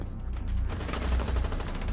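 A rapid burst of close, loud gunfire in the Rainbow Six Siege tactical shooter game, dense and continuous over a couple of seconds.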